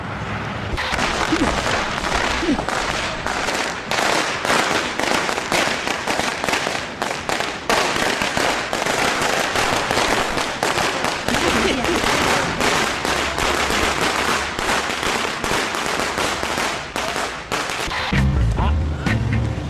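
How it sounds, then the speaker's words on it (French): Dense, continuous crackle of firecrackers and fireworks popping in rapid bursts somewhere in China, loud and sustained throughout with little pause between explosions. "Des pétards."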